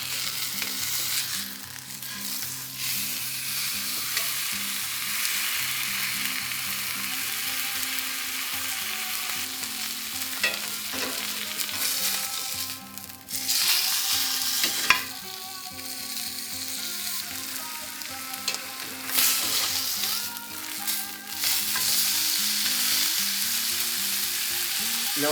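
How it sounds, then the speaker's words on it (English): T-bone steak searing in a hot pan, a loud continuous sizzle and crackle that swells and dips over about twenty-five seconds with occasional pops and louder bursts. "we're getting that first sear"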